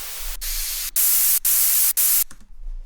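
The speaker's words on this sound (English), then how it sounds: "maybe a nice big white noise" Bursts of bright white-noise synth effect play in a deep house production, sounding as loud hissing static chopped into a rhythmic series of pulses with short gaps, then stopping.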